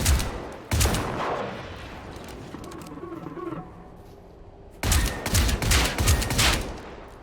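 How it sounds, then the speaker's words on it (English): Shotgun fire from the Sjökvist, a weapon in the video game Generation Zero: loud booming blasts at the start, then a quieter mechanical stretch like reloading, then another burst of heavy shots. "Now we have the first shotgun, the Sjökvist."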